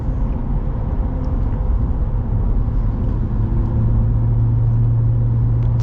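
Modified 2024 Ram Rebel GT pickup with a Hemi V8 and performance upgrades accelerating, a loud, steady low engine rumble heard from inside the cab that swells and deepens toward the end.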